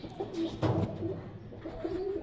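A female pigeon perched in a village yard gives soft, low cooing calls, several short coos in a quiet, slightly distant rhythm against light background noise.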